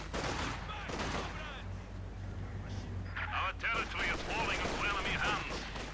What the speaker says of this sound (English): light machine guns go on